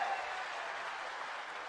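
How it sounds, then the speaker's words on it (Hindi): A crowd at a Bharat Jodo Nyay Yatra rally in Badnawar applauds to welcome Rahul Gandhi, a steady, dense wash of clapping that holds evenly throughout, with no voices over it. "जरा जोरदार तालियों से उनका स्वागत करें।"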